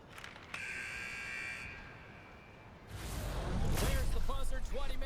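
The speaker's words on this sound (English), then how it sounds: "There's the buzzer, 20 minutes in the books" A long electronic buzzer ends a period in an ice hockey video game, a sustained tone that cuts off and gives way to louder crowd roar and arena noise rising toward the end.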